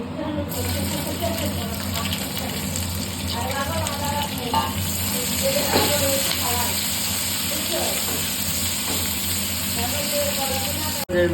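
Chopped onion frying in hot oil in a pan for a mutton kosha, a dense continuous sizzle with stirring scrapes throughout, loud and close, ending in a sudden sharp knock.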